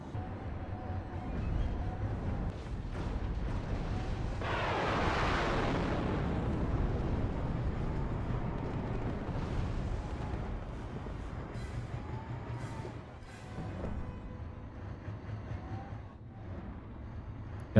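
Anti-aircraft fire and explosions in the WARNO Star Wars mod battle game, a dense rumbling barrage with a big blast swelling mid-way, plus scattered sharper bursts over a constant low roar.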